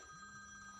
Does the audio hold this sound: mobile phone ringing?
yes